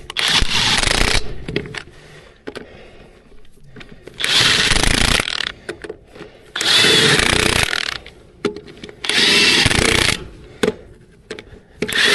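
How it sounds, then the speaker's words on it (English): A DeWalt power driver undoes fixings on a sheep stock box in four loud, harsh whirring bursts of one to two seconds each, separated by quieter pauses with faint handling noise. "these DeWalt guns are very powerful, so you've got 3 settings on them"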